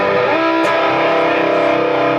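A homemade guitar pedal on its fuzz setting colours a sustained, loud distorted guitar chord that rings steadily on its own with no talking.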